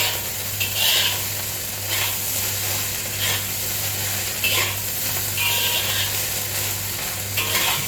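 Chinese fried rice sizzling steadily in a wok, with a constant frying hiss and periodic scrape-and-toss bursts of stirring about every second, close and fairly loud over a low background hum.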